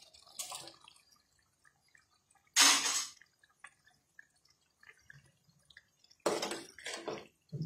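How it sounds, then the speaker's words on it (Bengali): Boiled kidney beans tipped into a cooking pan with soybeans, giving a few separate wet splashing, sizzling bursts with quiet gaps between them, close and fairly loud. "তো আমি যে ফরাসিমের বিচিগুলো দিয়ে দিচ্ছি, যেগুলো সেদ্ধ করে রেখেছি।"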